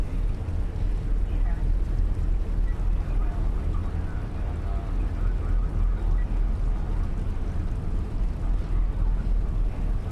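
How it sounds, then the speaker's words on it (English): Tugboat engines in Professional Ship Simulator give off a deep, almost sub-audible rumble, a constant low churning that runs steadily throughout with wind-like noise over it. "There's a really nice deep rumble. It's almost sub-audible from the tugboat engines."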